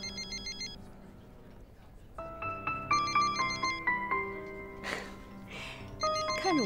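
A phone plays a melodic electronic ringtone during a dinner scene in a Chinese suspense drama, with repeated short musical phrases pulsing at moderate loudness against quiet room background.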